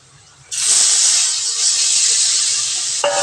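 Tomato dropped into hot spiced oil with turmeric for a Marathi-style dried cowpea curry, bursting into a loud, steady sizzling hiss that holds for a few seconds, then settles as stirring begins.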